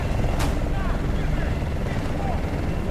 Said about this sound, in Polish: Śmigłowca wroga!